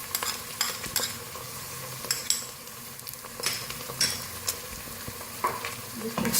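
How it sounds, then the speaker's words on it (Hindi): Half a kilo of chicken with two teaspoons of ginger-garlic paste sizzles and fries in a pan for a ridge gourd chicken dish, with a spoon repeatedly scraping and stirring; steady close frying hiss with clinks throughout, no talking. "इसको भूनेंगे अच्छी तरह से"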